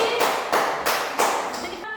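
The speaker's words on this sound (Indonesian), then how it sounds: "Mantap, kasih tepuk tangan" Several hand claps in a classroom, four to five broadband bursts spaced about a third of a second apart, fairly close and moderately loud.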